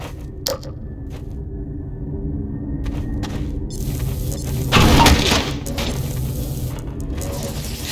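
A bridge collapses in a portal storm in Half-Life 2: Episode 2, heard as scattered creaks and cracks building into a heavy rumbling crash with breaking debris, then lingering clatter and noise.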